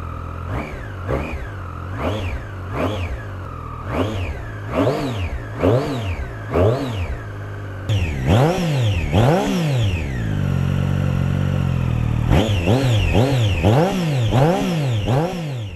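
A Triumph Street Triple S 660 motorcycle engine starts and is revved repeatedly in sharp, rising bursts, then held at a higher steady idle before more revs, all loud and close with no talking.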